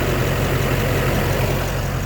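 Steady, loud diesel idle from a Duramax LBZ engine in a pickup truck with about 180,000 miles, heard up close as a continuous low rumble with no talking.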